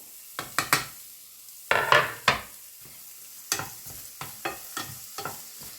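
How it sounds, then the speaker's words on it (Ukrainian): Onion cooks in hot oil in a frying pan and is stirred in bursts, giving clusters of sharp scraping and clattering strokes over a faint background sizzle. "І зараз буду е, обжарювати цибульку так до золотистого кольору такого."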